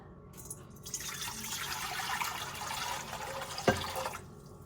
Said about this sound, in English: The first thing is 4 cups of warm water.